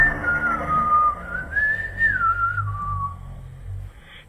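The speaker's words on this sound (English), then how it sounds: "Do you want me to whistle and you can whistle with me?" A single person whistles a slow, wavering melody up close, the tune sliding up and down over a few seconds with faint background hum.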